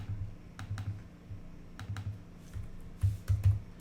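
Typing on a computer keyboard at a desk, with irregular bursts of close, crisp key clicks and brief pauses between runs of keystrokes.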